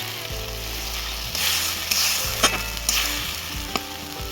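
Curry spices for a broccoli dish fry in oil in a pan. A constant sizzle runs under several distinct scraping strokes as they are stirred.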